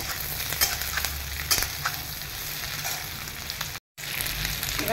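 Chilli egg sizzling and frying in a pan while being stirred, a steady hiss of hot oil with occasional sharper scrapes and clinks of the spatula, close and continuous, briefly cutting out near the end.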